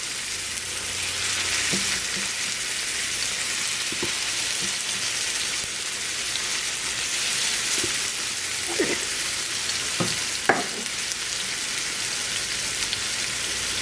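Hamburger patties brown in a hot pan with a steady, close sizzle and hiss, broken by a few sharp pops and crackles scattered through the frying.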